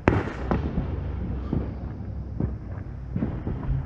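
Home fireworks on the Fourth of July boom and crackle at a middle distance, with several irregular thumping bursts over a continuous rumbling wash and no talking.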